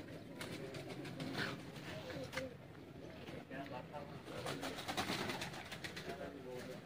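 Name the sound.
Sialkoti and golden pigeons cooing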